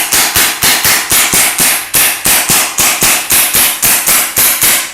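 Scuba-powered composite air rifle fired in semi-auto mode, a rapid run of about eighteen loud, sharp reports in a steady rhythm, each with a short hissing decay, close and alone.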